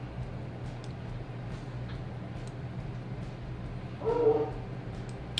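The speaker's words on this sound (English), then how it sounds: "doggos barking." Dogs bark in a brief burst of a few yips partway through, fairly distant and faint over a steady low background hum, with no talk.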